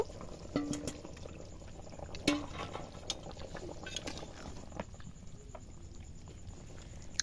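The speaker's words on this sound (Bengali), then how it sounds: "ঝোলটা ফুটে গেছে।" Curry gravy with potatoes and eggs simmers in a pot, giving a steady close bubbling patter with a few louder pops and clinks, no voices.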